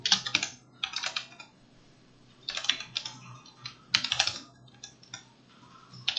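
A command is typed on a computer keyboard in several quick bursts of key clicks with brief pauses between them. The keys sound close and fairly soft, and no one talks.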